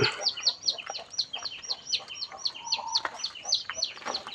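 Rapid, repeated high peeping of small chicks chirps steadily close by, with occasional softer lower clucks mixed in underneath.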